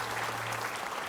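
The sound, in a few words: audience applause for a guest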